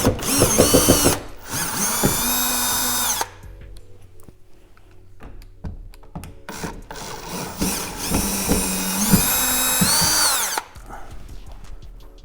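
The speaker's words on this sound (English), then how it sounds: "Next, we're going to go ahead and take these two Phillips screws out." A power drill whines loudly in several long bursts, speeding up and slowing down as it backs out Phillips screws on a 2020 Kia Telluride. Brief quiet gaps separate the runs, with no talk over them.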